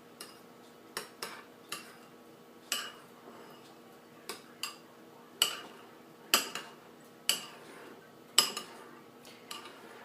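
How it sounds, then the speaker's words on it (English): Stuffed zucchini filling with herbs stirred in a pot or bowl, a spoon clinking against the sides in irregular scrapes and taps, a dozen or so distinct knocks spread over a quiet background. "Give it a stir."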